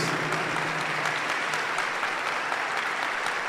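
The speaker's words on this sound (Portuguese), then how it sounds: "Pode dar uma salva de palmas para Jesus." Congregation applauding during a church Mass homily, a steady dense wash of clapping that holds evenly throughout without any voices over it.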